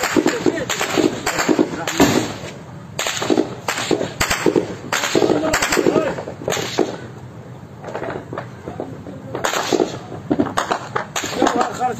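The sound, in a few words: gunfire during armed tribal clash in Basra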